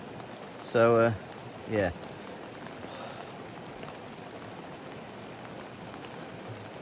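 Steady rain patters on a Lanshan 2 Pro tent at a riverside camp, a continuous soft hiss filling the background while someone speaks briefly near the start.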